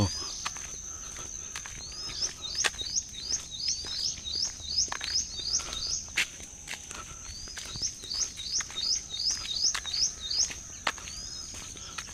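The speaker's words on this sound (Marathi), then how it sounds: "पक्ष्यांचा किलबिलाट बघा चालू" Birds chirp in rapid repeated bursts, two long trilling runs with scattered calls and sharp clicks, moderately near over a quiet outdoor background in the morning.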